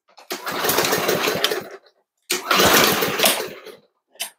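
A lawn mower engine, its carburetor just primed with fuel, sputters briefly to life in two rough bursts of about a second and a half each, separated by a pause. The sound is close and fairly loud, with no talking.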